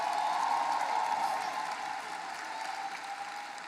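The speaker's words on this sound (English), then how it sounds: "Give yourselves a round of applause." A high school graduation audience applauds steadily, a dense wash of many hands clapping at a distance that fades slightly toward the end.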